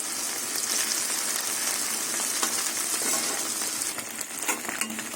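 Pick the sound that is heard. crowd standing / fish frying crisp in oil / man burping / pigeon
fish frying crisp in oil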